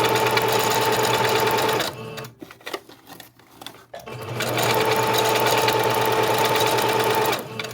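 A sewing machine stitches lace and fabric ruffles with a different stitch. It gives a steady, fast mechanical rattle, pauses briefly in the middle with a few soft clicks, then starts again at full speed, up close.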